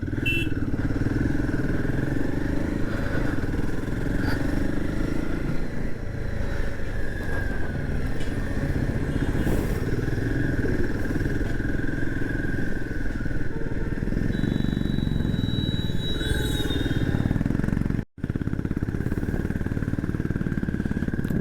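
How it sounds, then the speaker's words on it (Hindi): A motorcycle threads the wrong side of the road past a traffic jam, its mid-pitched engine droning steadily with surrounding traffic rumble and clatter, a brief high horn-like tone appearing near the end. "सारा जाम हमने क्रॉस कर दिया बाइक में रॉन्ग साइड से"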